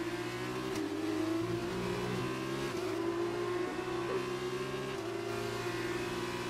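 An F2 car engine in the F1 2019 racing game at the Brazil circuit drones at high revs, with a few quick dips as gears shift, steady and loud without talk.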